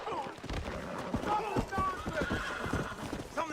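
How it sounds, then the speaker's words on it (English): Horse hooves clip-clop and a horse neighs in the video game Red Dead Redemption, with gunshots in the background and someone talking over the sounds. "O cara roubando o cavalo"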